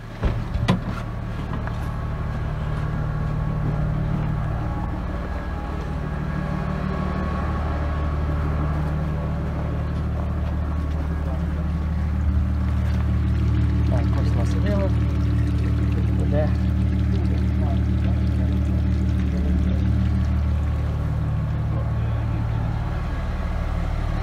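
A pump filling a tank with liquid on a farm during rapeseed sowing gives a loud, continuous droning hum with a gushing pour, holding steady throughout after a brief start.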